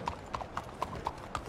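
Horse hooves clip-clop at a steady walking pace in Red Dead Redemption 2, about six evenly spaced clear hoof falls over a faint background.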